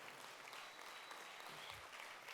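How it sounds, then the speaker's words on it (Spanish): A church congregation applauds for the King in steady, dense clapping that fills the space evenly at a faint, distant level, with no voices rising above it. "démosle palmas al Rey"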